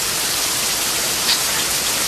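Heavy rain pours down during a thunderstorm near Blackwater Falls, a dense, steady hiss of falling water with one brief brighter spatter and no voices.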